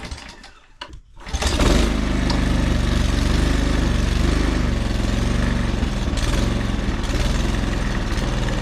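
A small engine is cranked and catches after a brief rattling start, then settles into a loud, steady, close idle that drones on without a break, and no one speaks over it.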